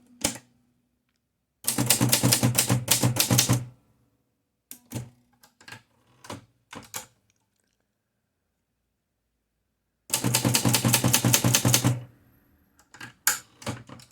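Two bursts of rapid keystrokes on a Torpedo Dynacord S manual typewriter, clattering close and loud, separated by silence and a few isolated clacks and carriage clunks.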